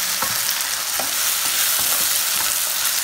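Onions sautéing with salt in a pan, a loud continuous hiss of frying broken by a few soft stirring scrapes, close with no voices.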